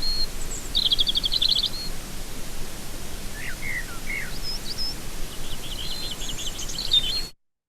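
Recorded outdoor soundscape, the liveliest of five biodiversity levels, with several birds chirping and trilling at moderate distance over a steady broadband hiss of wind or ambient noise, calls scattered throughout.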